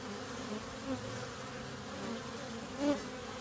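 Honey bees hum steadily at a growing apiary hive, a soft continuous drone with a few individual buzzes passing close, with no talk.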